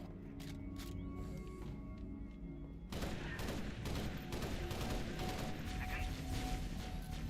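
Assault rifle in a shooting video game firing rapid bursts, a dense loud fusillade of close gunshots that starts abruptly partway through and continues to the end over game ambience.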